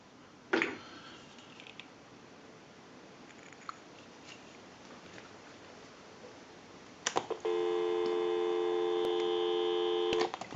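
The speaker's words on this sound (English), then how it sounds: "We'll go ahead and give you some dial tone." Steady dial tone from an Automatic Electric three-slot payphone after repair and conversion, switching on abruptly after a faint click and a few small handling taps and then holding constant and fairly loud until the end.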